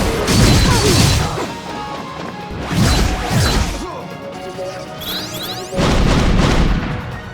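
Repeated heavy bomb blasts in the video game Indivisible, three loud booming crashes about two and a half seconds apart with rumbling tails and smaller whooshing game effects in between.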